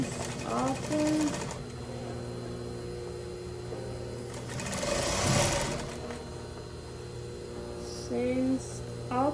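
Sewing machine stitching a skirt seam, a close, steady mechanical whir that rises and falls in bursts over a constant hum, with a person's voice heard in brief fragments.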